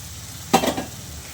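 Ground paste of two medium country tomatoes hits hot oil in a pan for dhaba-style aloo bhuna, giving one sudden loud sizzle that flares and fades within about a third of a second, with no one talking.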